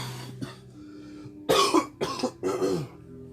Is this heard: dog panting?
no